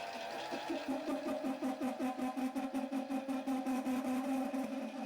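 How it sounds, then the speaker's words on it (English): A lathe's electric motor runs without load at low speed, giving a steady hum with a rapid, uneven pulsing wobble throughout, close and continuous. "You can hear the low RPM is not that stable without any load."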